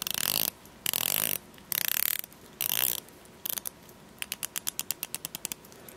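An EDC tool's ratcheting mechanism clicks as it is turned, first in rough grinding bursts, then in a quick, evenly spaced run of sharp close-up clicks.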